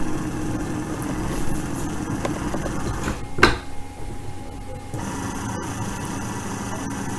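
Small DC motor spinning at a steady 1200 rpm under Arduino PI speed control, a continuous mechanical whir with a brief loud transient partway through, then the steady hum carries on.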